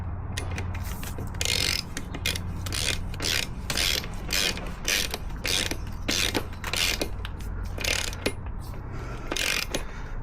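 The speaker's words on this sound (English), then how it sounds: "Let's torque up this nut now." Ratchet tightening a nut on a Yamaha WR125X motorcycle during a rebuild, a steady run of close, rapid creaking clicks in repeated strokes with no talk.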